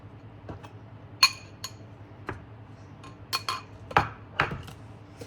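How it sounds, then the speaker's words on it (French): Feta cheese and butter being stirred together in a bowl, with light, irregular clinks and scrapes of a utensil against the dish, quiet and without talk. "Et je mélange le tout."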